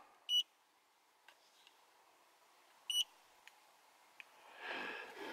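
Punching a code into an Ancel AD410 OBD II scanner brings two short, high electronic button beeps, soft and close, with faint button clicks between them and a light rustle at the end.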